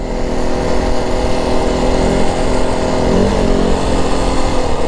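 A 2025 Yamaha WR450F dirt bike with its exhaust completely uncorked runs loud and close. Its engine drones steadily throughout, alone with no talk, and the pitch shifts slightly partway through.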